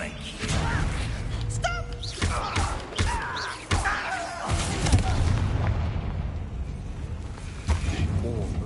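Bombarda blasting spells exploding in Hogwarts Legacy inside a mine, a string of heavy booms and slams over rumbling game ambience, with someone talking over parts of it.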